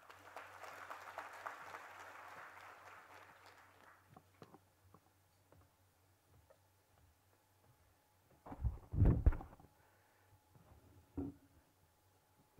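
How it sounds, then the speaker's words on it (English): An audience at a formal gathering in Delhi applauds to welcome a police officer as speaker, clapping moderately for a few seconds before fading out, then near silence broken by a few heavy thumps and shuffling sounds. "Let's welcome him with a round of applause"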